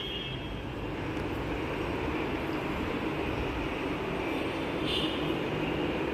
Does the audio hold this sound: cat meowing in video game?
no